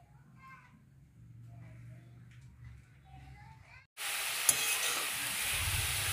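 Grated carrots hit hot ghee for carrot halwa and burst into a loud, steady sizzle after a quiet stretch of kitchen sounds, frying on without pause.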